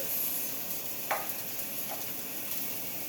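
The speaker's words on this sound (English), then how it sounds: "So I've heated approximately a teaspoon of oil, and I'm going to add our onions" Onions tipped into a teaspoon of hot oil give a steady, quiet sizzle, with a couple of brief clatters as they land and get stirred.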